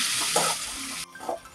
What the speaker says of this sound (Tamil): இப்போ வெண்டைக்காவை போட்டு நம்ம நல்லா வதக்கி எடுத்துக்கணும்